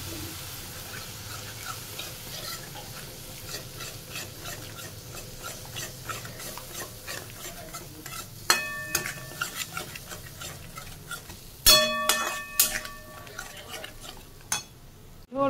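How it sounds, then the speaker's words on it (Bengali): Turmeric powder and a splash of water stirred into spices in a pan for a bhetki fish curry, with a steady low bubbling and clinks and scrapes of a utensil against the metal pan growing sharper toward the end. "আর দেবো হলুদ গুঁড়ো দিয়ে একটু জল দিয়ে নাড়বো"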